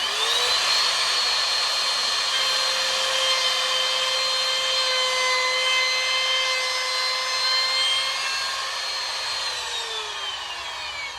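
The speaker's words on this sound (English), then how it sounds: "turn on the router, then I'm going to initiate the cut, go nice and slowly around that radius" A wood router whines at a steady high pitch, loud and close, cutting a radius on a step stool, holding its tone throughout with a slight drop in pitch near the end as the cut finishes.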